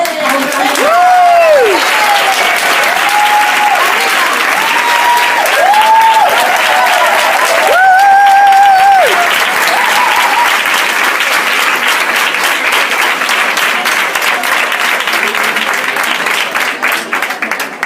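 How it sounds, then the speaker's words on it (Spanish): A business briefing audience in Barcelona gives loud, sustained applause to welcome a speaker, with whoops and cheers rising over the clapping early on before it settles into steady clapping. "por favor, un gran aplauso para un gran..."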